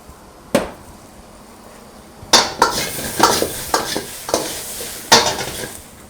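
Noodles being stir-fried in a wok with soya sauce, vinegar and chili oil at a Kolkata street food stall: a spatula scrapes and clatters against the pan in irregular bursts over a low sizzle, close and fairly loud.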